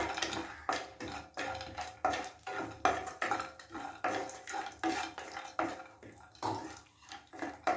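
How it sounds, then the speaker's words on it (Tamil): Cashews roast in ghee in a pan with a spoon stirring and scraping against the metal in steady repeated strokes, light sizzling underneath, close and fairly quiet, no talking. "கொஞ்சமாக நெய் போட்டு முந்திரி பருப்பை வறுத்து எடுத்துக்கலாம்."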